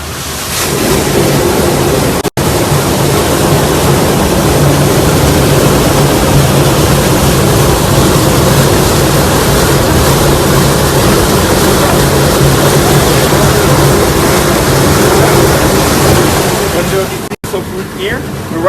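Water gushes steadily through the stone channel of an ancient working oil mill, a loud, continuous rushing roar that holds for the whole stretch and builds power toward the wheel it drives.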